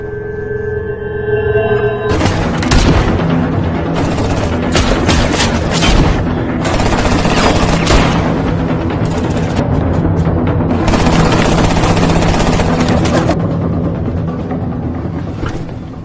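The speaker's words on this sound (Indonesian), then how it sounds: "Dan aksi tembak-tembakan pun tak terelakkan lagi." Intense shootout in an action film, with dense bursts of gunfire, booming blasts and rapid volleys filling the scene almost continuously after a brief quieter opening, loud and close throughout.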